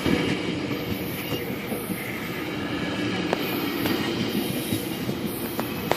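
A TTC 4000 series subway train rolls past at Danforth with a steady rumbling roar, sharp rhythmic wheel clicks over rail joints and faint squealing, continuous throughout.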